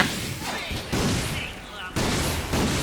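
Gunfire aimed at a dog enemy in the Ratchet & Clank video game comes in several sharp bursts spaced about a second apart, with a voice talking over the action.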